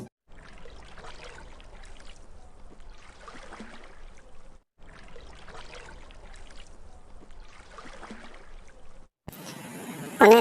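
Cartoon water splashes as a character swims through a pond, with repeated sloshing bursts at a steady rhythm, then a sudden louder, different sound cuts in at the end.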